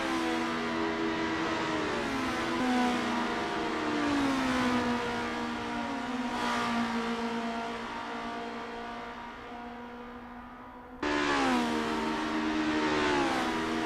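Race cars in the Assetto Corsa racing game at Bridgehampton, engines whining and revving steadily through gear changes, the pitch sweeping up and down, then a sudden fresh surge of acceleration near the end.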